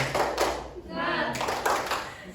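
Group 'tepuk semangat' clapping by a class during a microteaching lesson on management, with short bursts of hand claps in a patterned rhythm alternating with a voice chanting along.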